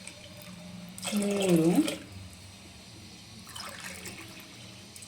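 Water is poured from a glass into a pot while making sweet kodo millet pongal: a short splashing pour, then a second, fainter one, with a voice counting in between.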